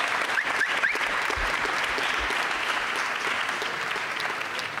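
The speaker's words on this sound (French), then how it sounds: "Bah oui, on peut applaudir." A conference audience at a talk on the left and animal rights applauds steadily, dense clapping filling the room for several seconds with a few faint thumps underneath.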